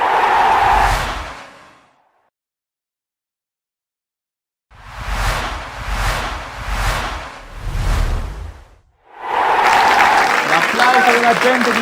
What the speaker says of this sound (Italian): La gente di Cammarata con la birra in mano e la montagna nel cuore per applaudire i propri beniamini